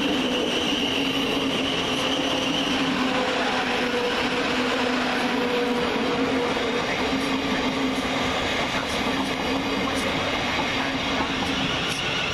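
Southern Railway Class 377 electric multiple unit moving through Burgess Hill railway station, a steady rumbling roar with faint rail clatter and wheel whine, continuous and fairly close throughout.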